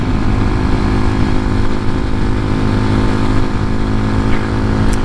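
An X-Pro Hawk DLX 250 motorcycle cruising in 5th gear at almost 7,000 RPM and about 52 mph, its engine a steady, close, buzzing drone mixed with wind rush throughout.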